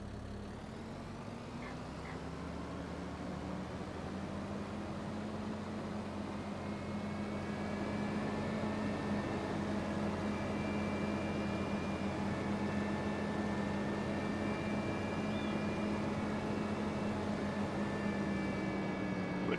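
A quiet Euro tractor engine idles and runs steadily in a farming video game, a smooth, almost electric-sounding hum that rises slightly in level and holds constant throughout.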